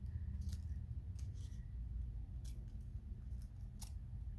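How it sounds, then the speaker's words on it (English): Scissors snip decorative trim on a card, giving several quiet, crisp cuts spaced irregularly over a low background hum. "I'll just give it a little snip."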